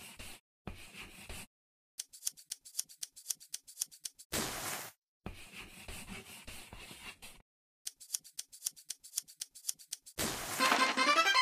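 Scissors snip repeatedly through fabric in an Android sewing dress-up game, with quick rhythmic crisp cuts in bursts separated by short silences and brighter swishing sounds.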